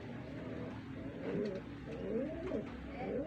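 Pet pigeons cooing close by, soft repeated rolling coos in a gentle rising-and-falling rhythm, with faint voices in the background.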